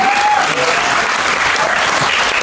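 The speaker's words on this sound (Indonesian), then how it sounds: "boleh tepuk tangan untuk Dangdut Akademi" Loud, dense audience applause for Dangdut Akademi at a televised Indonesian event, sustained clapping from a large crowd throughout, with a brief voice near the start.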